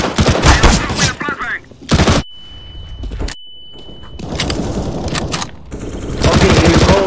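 P90 submachine gun fire in Counter-Strike on the Inferno map, loud rapid bursts near the listener, broken by short pauses, mixed with game effects and players talking over it.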